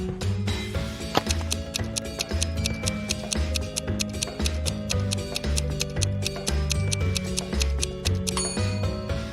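A steady mechanical clock ticks with an even, close rhythm, sharp regular clicks running without pause over a continuous background tone, with no voices present.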